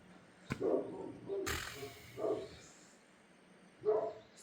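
Dogs bark at a stray cat outside a home garage. There are about four separate barks spread across a few seconds, moderately loud with quiet gaps between them.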